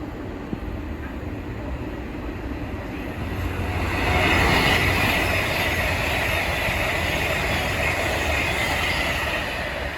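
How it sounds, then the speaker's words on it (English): An Avanti West Coast Class 390 Pendolino electric train passes, a steady broad rumble and rush that swells midway and holds loud to the end. "The next train to pass by is going to be an Avanti West Coast Class 390 Pendolino from Manchester Piccadilly to London Euston."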